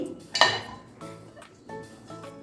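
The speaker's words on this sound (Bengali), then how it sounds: "এবারে যে সবজিগুলো আমি কেটে রেখেছিলাম সেটা একটা কড়াইয়ের মধ্যে দিয়ে দিচ্ছি" Chopped vegetables tipped into a kadai-style wok for a light diet pasta dish: one loud, close clattering tumble of metal and food, then a few quieter clinks and settling sounds with no talking.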